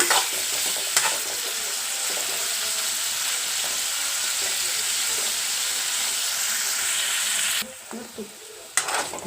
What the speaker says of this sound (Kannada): ಉಪ್ಪು ಖಾರ ಮತ್ತು ಅರಿಶಿನ ಇದು ಇದನ್ನು ಹಾಕಿ ಒಂದು ತ್ರೀ ಮಿನಿಟ್ ಅಷ್ಟು ಪನ್ನೀರ್ನ ಫ್ರೈ ಮಾಡಿ ತೆಗೆದು ಬಿಡೋಣ